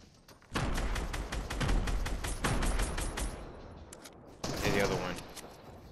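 Rapid bursts of gunfire from a video game shooter, several sustained volleys in the first few seconds, then a brief gap and another loud burst, close and dense, with players talking over it.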